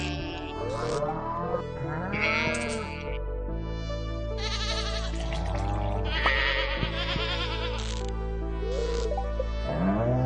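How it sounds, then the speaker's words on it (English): Sheep bleating in the farm game Stardew Valley, several clear, close bleats repeating every couple of seconds over steady game music, with no talking. "and there we have the sheep, and from sheep we get wool."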